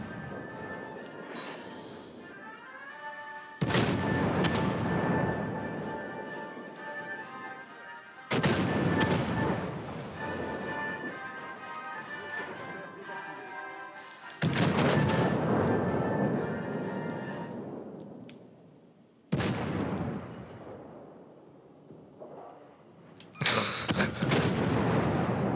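Enemy warship guns firing in World of Warships: Legends: four heavy booming salvos spaced several seconds apart, each a loud sudden blast decaying slowly over a steady background hum.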